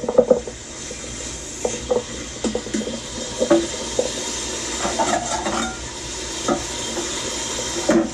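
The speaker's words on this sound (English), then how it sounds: "we're going to brown the beef" Beef browns in an Instant Pot with an uneven sizzle, and scraping stir knocks and clatter from a utensil break in at close range.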